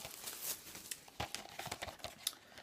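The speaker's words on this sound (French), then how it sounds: "On déballe le tout." Plastic wrap being torn and peeled off a DVD box set, close crinkling and crackling in irregular bursts with sharp snaps, no talking.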